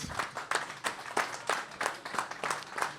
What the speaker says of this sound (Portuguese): Um grande aplauso para o Sr. Arnaldo Trindade